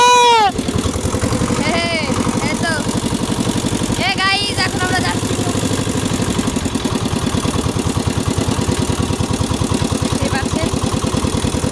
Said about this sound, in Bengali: আমাদের নৌকা চালু হয়েছে